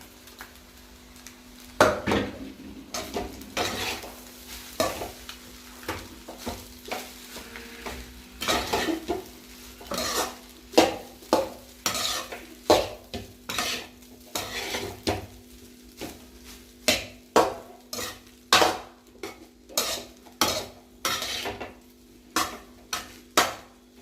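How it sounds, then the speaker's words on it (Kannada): Egg rice is stirred and mixed in a pan, with a long run of repeated scraping and clinking strokes of the utensil against the pan over a soft sizzle, steady and fairly close. "ನೀಟಾಗಿ ಮಿಕ್ಸ್ ಮಾಡಬೇಕು, ಯಾಕೆಂದರೆ ಉಪ್ಪು ಖಾರ ಎಲ್ಲ ಅನ್ನಕ್ಕೆಲ್ಲ ಹಿಡಿಬೇಕು"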